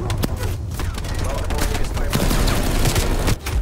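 Rapid bursts of automatic gunfire crackle through a shooter match, with dense overlapping shots and a few booming hits, loud and close throughout with no clear gaps.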